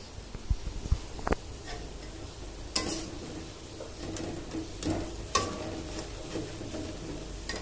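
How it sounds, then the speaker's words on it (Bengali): Farm chicken roast fries in a pan, with a soft, low sizzle running underneath, scattered clinks and scrapes of a spoon stirring against the metal, and a few sharper knocks. "এটা একটু ভাজা ভাজা হোক।"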